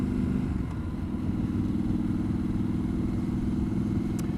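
A Triumph Scrambler 1200 XE motorcycle rides down a sandy track, its engine giving a steady, close, low rumbling drone that holds even throughout with no break.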